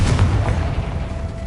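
A Confringo blasting spell explodes in Hogwarts Legacy as one short, deep boom that fades quickly, with no talk.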